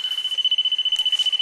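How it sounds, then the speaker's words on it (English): A high electronic pump alarm beeping rapidly and steadily, about ten beeps per second, loud and continuous throughout. "that's the alarm going off"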